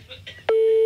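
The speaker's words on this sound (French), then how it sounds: "tu peux arrêter la sonnerie, Phil." A telephone tone sounds as a single sustained steady electronic beep, loud and close, starting abruptly after brief muffled voices and continuing to the end.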